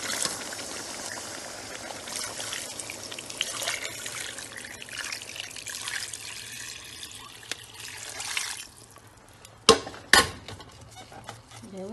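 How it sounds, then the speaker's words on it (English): Water trickles and pours steadily into a cooking pot of rice and fish for tiebou dieune, running for several seconds before a few sharp clanks near the end. "And I'm gonna add some water."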